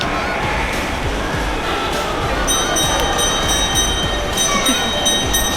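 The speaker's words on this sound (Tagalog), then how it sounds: "Eli, the train is there na daw" A train pulls into a station with a continuous loud rumble of rolling wheels and rail noise. Faint high squeals from the wheels join partway through, while people talk nearby.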